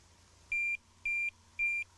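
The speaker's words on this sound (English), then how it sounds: "Get the normal bleeps." A Tx-i Plus cable locator's buzzer bleeps three times at an even pace, each high-pitched tone lasting about a quarter second with short gaps between.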